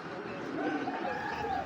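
Soft, low cooing of pigeons in a racing-club loft, a continuous near murmur of several birds with no talk over it.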